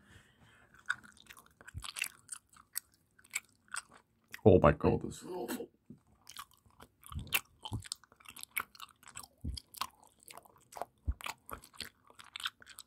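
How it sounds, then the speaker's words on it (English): Gum chewed right up against the microphone makes wet, clicky smacks and crunches in an irregular rhythm, with a short louder burst partway through. A person talks briefly. "I'm going to chew in your ear for 10 seconds"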